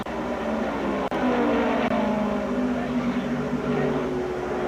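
Stock cars roar around the track at the 1982 UNO Twin 125s, the field closing on lapped cars in a dense, sustained engine drone with rising and falling pitch, a commentator talking over it.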